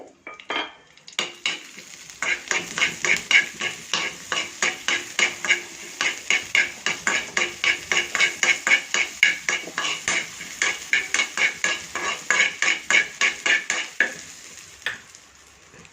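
Mustard seeds and urad dal crackle and pop rapidly in hot sesame oil, a dense rhythmic sizzling that sputters steadily for several seconds before tapering off.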